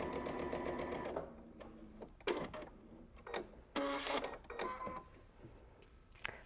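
Sewing machine edge stitching a raw edge on a wool seam, with a steady run of rapid needle clatter followed by short bursts of stitching separated by pauses, close and clear with no talk.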